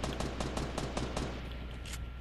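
Rapid automatic gunfire rattles through a video game match in loud, dense bursts with brief gaps, close and continuous for the whole stretch.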